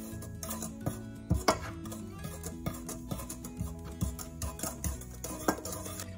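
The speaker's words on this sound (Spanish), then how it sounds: "con el gancho lo vamos a revolver" Sugar and a pinch of salt stirred with a dough hook in a bowl, giving faint irregular clinks and scrapes under quiet background music.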